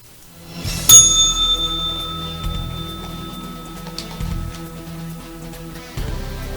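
A single bell is struck once and rings out with a clear, sustained metallic tone that slowly fades, close and fairly loud, with no talking.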